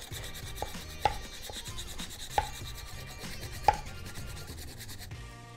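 Rough scraping and rubbing inside the finger hole of a bowling ball being plugged at home, a steady rasping texture with three sharper knocks spaced about a second apart, close and fairly quiet, no talking.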